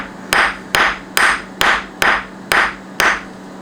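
Seven evenly spaced, sharp hammer strikes flatten a wire loop during repair work on a Ferrari car radio, each blow ringing briefly before the next, close and loud with no talking.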